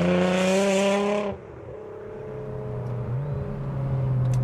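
A Nissan GT-R engine revs high, then drops sharply as a gear changes, and the engine note climbs steadily again, smooth and uninterrupted with no gearbox crunching.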